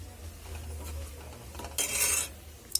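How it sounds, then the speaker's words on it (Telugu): Spoon stirring goat tripe boti fry with chili powder in a pan, soft scraping and rubbing with a louder gritty scrape near the end and a single metallic clink, close and without speech. "కొంచెం కారంని కూడా ఫ్రై అయ్యేలాగా ఫ్రై చేసుకుందాం"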